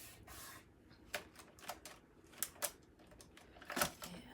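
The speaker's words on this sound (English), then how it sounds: "This is a standard card base I'm going to fold in half." A paper card base is folded in half at a crafting table, making faint soft rustles and a few sharp creasing taps and scrapes at irregular intervals. The sounds are quiet and close. No one speaks.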